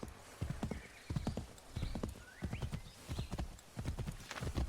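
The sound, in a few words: horse galloping and neighing in Assassin's Creed III video game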